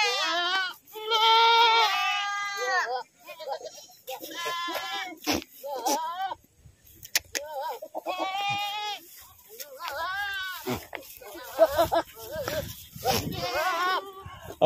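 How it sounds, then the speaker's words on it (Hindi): Sirohi breed goats bleat loudly and repeatedly, long wavering cries close by, with a person talking in between. "ये सिरोही ब्रीड का बकरा है"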